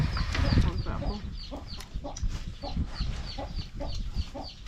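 Chickens cluck in a steady string of short, repeated calls, fairly close and moderately loud over a rough background of low rumble and bustle; a faint voice is present.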